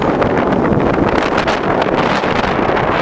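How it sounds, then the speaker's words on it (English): Strong wind roars and buffets the microphone continuously at a snowy boreal lake, a loud, rough rumble with no pauses. "And it's windy."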